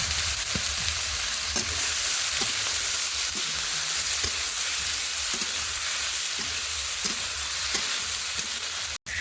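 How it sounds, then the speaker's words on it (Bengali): Marinated soybean chunks fry in hot oil after potatoes, giving a steady broadband sizzle throughout with small stirring knocks at intervals, close and even in loudness, no talking. "এবার এই তেলের মধ্যে দিয়ে দেবো ম্যারিনেট করে রাখা সয়াবিন"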